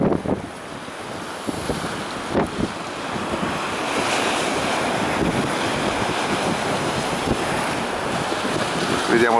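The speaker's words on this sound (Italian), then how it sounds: "il mare è ancora molto vivo e molto agitato" Rough, agitated sea after a storm surge at Santo Stefano al Mare on the Italian Riviera, waves crashing and surging in a continuous loud roar mixed with gusty wind buffeting the microphone.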